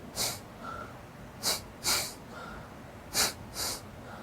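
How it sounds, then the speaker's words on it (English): Close breathwork breathing through the nose and mouth: about six sharp, hissing inhales and exhales in an uneven rhythm, with faint soft hums between them and no speech. "I'm not going to keep breathing in your guys' ears"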